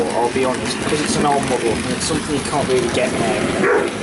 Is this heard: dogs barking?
yes